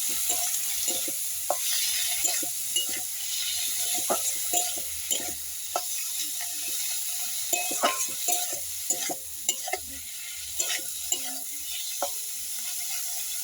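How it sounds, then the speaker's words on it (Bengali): Prawns fry in a pan with salt and turmeric, a soft continuous sizzle broken by frequent light scraping and stirring clicks of a spatula against the pan, close and steady throughout with no talk. "দিয়ে চিংড়িটাকে ভেজে নিই।"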